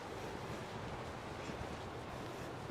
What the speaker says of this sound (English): We can hear the Gulf of Mexico. It's windy today.